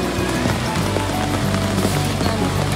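Rain falls steadily in the Batangas countryside, a dense, loud, continuous patter on surfaces with no voices.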